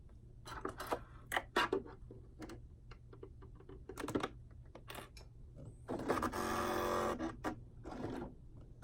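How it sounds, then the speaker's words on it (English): A home sewing machine stitching a buttonhole on fabric for a pair of joggers' waistband or cuffs, sounding as short mechanical bursts of rapid clatter followed by a longer steady whirring run near the end, close and fairly quiet. "with doing a buttonhole, you're really doing hands-free sewing. So you're letting your machine do the guiding of the fabric."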